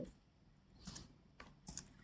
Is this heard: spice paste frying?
no